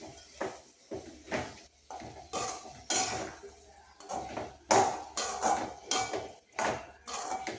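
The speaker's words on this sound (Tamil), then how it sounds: "நல்லா கிண்டி விட்ருவோம்." Green cowpea pods being stirred in a pan for a karamani stir-fry, with repeated metal spatula scrapes and clanks against the pan in quick rhythmic bursts, close and fairly loud, with no talking.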